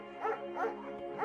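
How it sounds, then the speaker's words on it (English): German Shepherd in the video game Firewatch gives three short, evenly spaced barks, clear and moderately close. "There's also an intimidating but gentle German Shepherd."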